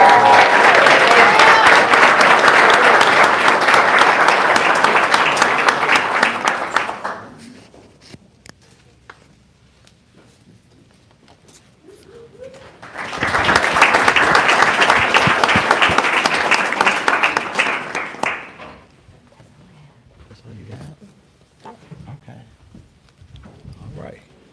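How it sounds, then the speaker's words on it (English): Audience applause at a service academies nominee reception honoring candidates: two sustained rounds of loud, dense clapping from a crowd, separated by a quiet pause of several seconds. "let's give all of our candidates another round of applause"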